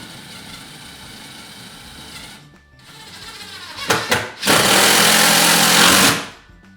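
A power driver sends a screw into a hangboard backer board in a climbing gym install: a brief whir, then a stuttering burst and a loud sustained buzzing drive of about two seconds that stops abruptly, heard up close.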